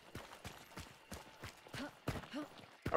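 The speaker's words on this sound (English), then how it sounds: "There's a horse going off up here." A horse gallops in the video game Hunt: Showdown, its rapid clip-clop hoofbeats fairly faint and at a distance in a swampy setting, with a brief vocal sound near the end.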